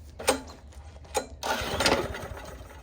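A lawn mower engine is cranked with two short pulls, then a longer spell of churning as it tries to fire without catching, close and fairly loud.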